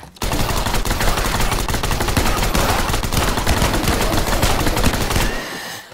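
Sustained automatic gunfire in the PC sci-fi survival shooter Shattered Skies, set on an alien-invaded Earth: a dense, loud, continuous burst of rapid shots lasting about five seconds before cutting off.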